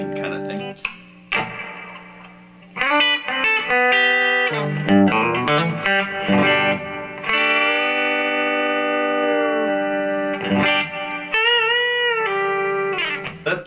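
A Harley Benton TE-70 electric guitar is played through effects, with strummed chords, sustained ringing notes and short picked phrases showing different pickup tones, loud and close with some echo.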